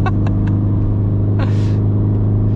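Ring Tracktor car droning steadily on a racetrack under throttle, a constant low engine hum close by, with a few brief clicks and a short rushing burst partway through.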